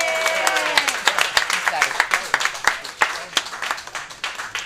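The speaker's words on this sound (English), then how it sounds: "Clap it up for Joseph Ney." Audience at a comedy show in a Fort Lauderdale bar applauding a comedian, an uneven patter of claps with sharp individual hits over a fading crowd wash, moderately close.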